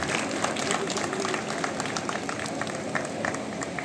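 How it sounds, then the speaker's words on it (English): An audience at a felicitation ceremony at BK Birla Institute of Engineering & Technology breaks into sustained, even applause, a dense patter of many hands clapping at moderate loudness with no clear pauses. "Let us welcome them with a huge round of applause."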